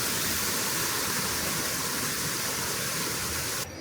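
Waterfall on a creek at Dollywood theme park: steady broadband rushing water, constant and fairly close, with no voices.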